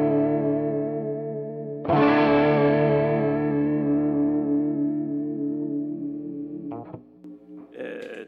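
Electric guitar played through an Ibanez Bi-Mode Chorus pedal, with a ringing sustained chord that shimmers and swirls, a second chord struck hard that slowly decays, then a few short plucked notes near the end.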